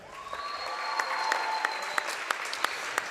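A crowd at a high school senior night wrestling meet claps in a gymnasium, building into a sustained round of applause with sharp individual claps and a few whistles standing out near and loud.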